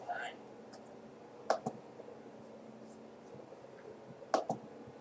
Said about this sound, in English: I'm going to type real quick, maybe.